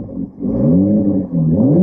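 A 2021 Toyota Supra MK5 A91 Edition sports car engine revving up close and loud, pitch climbing twice with a brief dip between, no talking.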